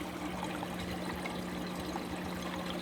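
Water from a 430 gallon-per-hour pump pours steadily through a Durso standpipe weir of 1-inch thin-wall tubing, a continuous close trickling rush with a low steady hum beneath, no voices.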